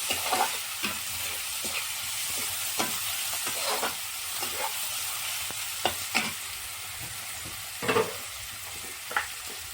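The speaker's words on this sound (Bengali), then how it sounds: "দিয়ে দিলাম পেঁয়াজ কিমা, ভালো করে ভেজে ব্রাউন করে ভেজে নেব।" Minced onion frying in a pan for a veg manchurian, a soft continuous sizzle broken by repeated sharp scrapes and clacks of a stirring spatula, with no talking.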